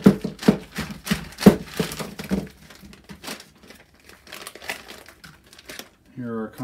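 A plastic survival kit bag with a Ziploc-style closure crinkles as it is opened and its contents are dumped out, with bursts of rustling early on, then quieter handling and a few light knocks while someone talks throughout.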